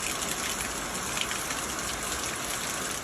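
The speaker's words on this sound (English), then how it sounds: "Monsoon rains, thunder, and lightning followed." Heavy monsoon rain in the US Southwest, near Phoenix, pours down in a steady, dense hiss that stays loud and unbroken throughout, with no voices.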